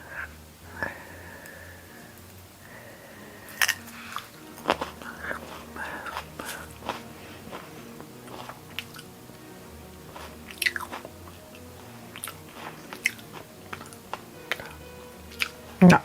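A woman eating one of the world's hottest chili peppers, with close, irregular bites and crunchy chewing sounds scattered across the stretch, plus faint breathy mouth noises and a few quiet murmurs.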